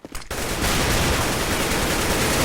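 Rapid, dense gunfire fills a Counter-Strike match on the Cobblestone map, a loud continuous burst that follows a few brief sounds at the start.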